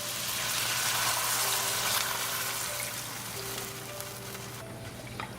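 Hot water streams steadily into a pot of spiced shrimp rice pilaf, making a close, continuous hiss and splash that tapers off near the end.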